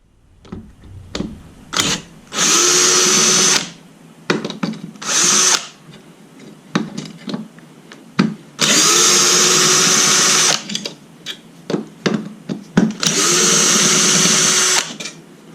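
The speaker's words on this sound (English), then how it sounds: "I'll grab the drill, and then I'll go ahead and get those off right quick." A power drill removes Dodge RAM mirrors, whirring in four separate bursts of a couple of seconds each, close up, with clicks and handling noises between them.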